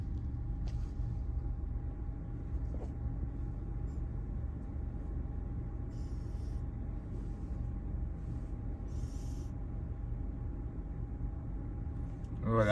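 A touchless automatic car wash in Canada rinses a car, giving a steady, loud rushing roar of water spray and machinery that runs unbroken throughout, with a brief swell at the very end.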